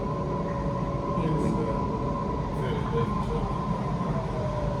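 Passenger train on the North Shore Line, Sydney, a steady loud rumble and rolling hum from inside the carriage that continues without pause, with faint voices underneath.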